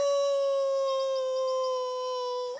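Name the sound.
cartoon character imitating a werewolf howl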